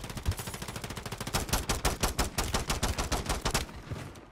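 Rapid automatic rifle fire in the shooter Call of Duty: Modern Warfare 3, a loud, close, continuous stream of shots that speeds up into a dense burst before cutting off.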